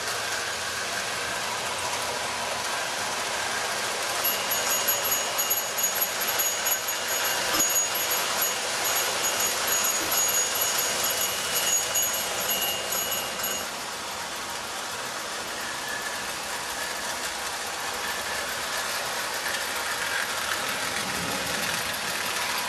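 A Marx 666 toy train locomotive with a stock motor and traction tire pulls 28 cars through a curve, giving a continuous whirring motor hum and rail rumble that grows busier in the middle, then settles steady.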